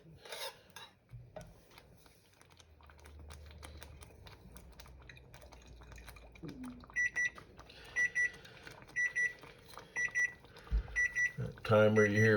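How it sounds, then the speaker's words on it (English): A kitchen timer beeps in a steady repeating pattern while biscuits bake in the oven, the bright tones rising above kitchen clatter and handling noise, getting louder toward the end. "That timer you hear beepings tell me check on my biscuits."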